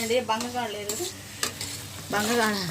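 Okra frying in a pan and being stirred: close spatula scrapes and clanks over a sizzle, with a wavering tonal hum at the start and end.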